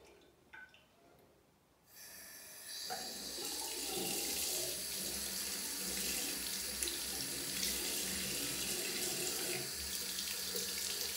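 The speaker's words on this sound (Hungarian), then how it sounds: "Kézmeleg vizet használunk a fürdetéshez." Hand-warm tap water running steadily into a sink or basin while a cat is bathed in a lime sulfur dip for ringworm, a faint click and rustle first, then a continuous gushing stream close by.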